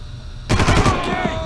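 Machine gun fire in Far Cry, a quick loud burst of rapid shots rattling in close succession after a quiet moment, followed by ringing decay.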